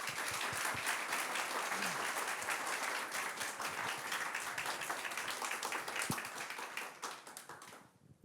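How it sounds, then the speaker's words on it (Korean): A Korean church congregation gives the visiting pastor a warm welcoming round of applause, dense and sustained clapping that stays full before thinning out and fading near the end. "환영의 박수로 맞아주시면 감사하겠습니다"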